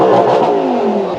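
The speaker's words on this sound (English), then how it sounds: "that engine sound at the back." A Lamborghini Huracan engine revs loudly from behind the cabin, a strong, sustained roar that holds steady before easing slightly over a second or so.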